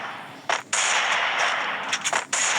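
Gunfire in the Free Fire mobile shooter game, with dense sustained bursts of rapid shots broken by a few brief gaps and no talking.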